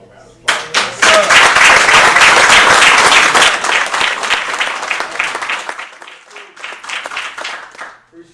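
An audience gives a round of applause at a live business presentation, close clapping bursting in loudly, holding dense for several seconds, then thinning into scattered claps and fading out.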